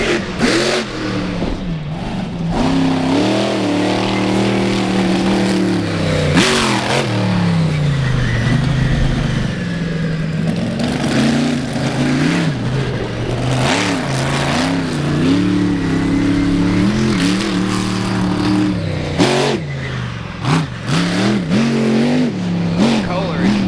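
At an indoor 4-Wheel Jamboree Nationals event in Indianapolis, a monster truck engine roars and revs in repeated surges during a freestyle wheelie run, loud and close, with an announcer talking over it throughout.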